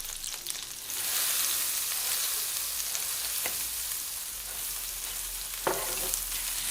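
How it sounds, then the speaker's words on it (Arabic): Butter and olive oil heat in a frying pan on a gas stove, giving a steady, close sizzling hiss with a few sharper pops and crackles scattered through. "بحط معلقة طعام زبدة حيواني ومعلقة طعام زيت زيتون. بخليها تحمى منيح على الغاز"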